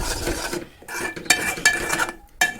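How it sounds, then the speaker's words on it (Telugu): Milk and sugar stirred in a pan for homemade kulfi: a spoon scrapes and clinks against the metal in irregular bursts, with soft pauses between strokes, close and moderately loud with no talking. "కొంచెం సైడ్స్ కూడా కలుపుతూ ఉండండి లేదంటే అడుగంటిపోయినట్టు అవుతుంది"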